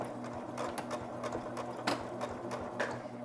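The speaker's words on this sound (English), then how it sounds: "We're going to backstitch to start." A domestic sewing machine stitches fabric for hospital shoe covers, backstitching at the start of a seam with a steady rapid mechanical whir and clatter, close and moderately loud, with no voices.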